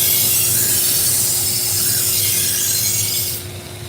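Knives are sharpened with a continuous loud rasping, grinding scrape that runs steadily throughout and eases slightly near the end, close up with no speech.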